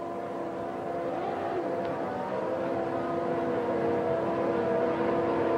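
Formula 1 cars rolling onto the starting grid at the British Grand Prix, a low, fairly distant engine drone with tonal whine that gradually swells in loudness, without talk.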